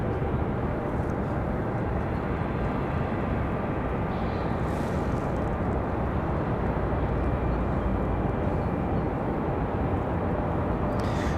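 A Southwest Boeing 737-700 jet roars at Raleigh-Durham airport, a dense, loud, broadband engine rumble that holds steady throughout with a faint high whine, heard from outdoors with some wind.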